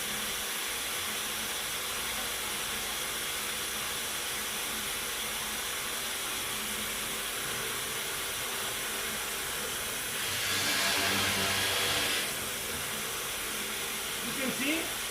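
A dust collector runs on a hinge drill press, giving a loud continuous hissing roar that holds steady throughout, with a brief louder burst near the end and faint talk beneath.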